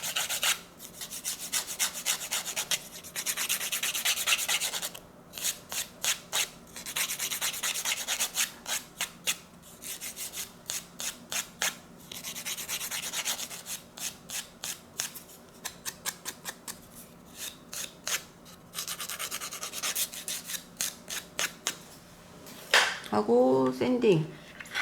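A nail file rasps back and forth over a natural nail to sand and shape it, giving steady rhythmic scratching strokes in close bursts, with brief talking near the end.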